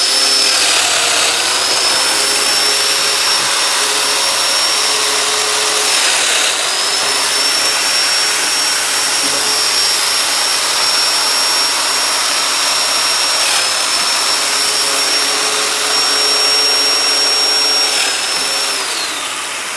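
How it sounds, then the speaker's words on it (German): A Festool Domino joiner mills a mortise into wood, cutting in from both sides: a loud, continuous high-pitched motor whine that stays steady for about twenty seconds and fades slightly at the end, with no talking. "gehe hier auf beide Seiten mit dem Fräser rein, dann habe ich eine saubere Fräsung, keinen Ausriss"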